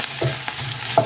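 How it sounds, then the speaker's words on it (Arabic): Champignon mushrooms sautéing in a pan, a soft steady sizzle with light stirring scrapes, close and moderate in level, no voices. "من بعد ما تشحر ليا الشامبينيون حتى هو"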